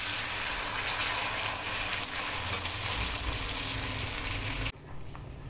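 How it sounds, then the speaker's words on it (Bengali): Water poured into a hot pan for a potol and katla fish curry with potatoes, a loud rushing gush over sizzling that cuts off abruptly, leaving a quieter bubbling simmer. "এখন আমি পরিমাণ মতো জল দিয়ে দেব।"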